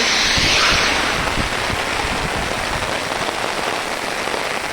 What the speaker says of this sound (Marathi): पाऊस भरपूर लागता आणि तुमच्यापर्यंत आवाज माझा पोचता का माहीत ना